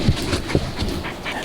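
A guard dog near a goat herd pants softly and gives a few faint whimpers, close by in a short burst over light outdoor background noise.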